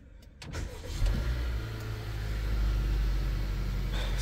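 A 2022 Volkswagen Nivus Highline 200 TSI starts with a push of its keyless start button: a brief click and starter whir, then the engine catches and settles into a steady, close idle rumble.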